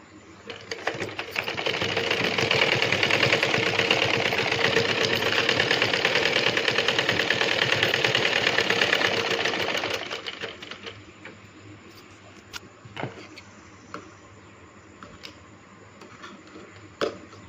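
A home sewing machine runs a steady, fast, loud rhythmic stitch for about ten seconds while sewing a double seam over a cut in fabric, then stops, leaving faint clicks and handling noise.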